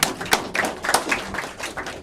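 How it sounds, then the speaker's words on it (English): A small audience at a university summit gives the panel speakers a brief round of applause, with sparse, close, uneven hand claps rather than a full ovation. "I think, we should give a round of applause to all the panel speakers."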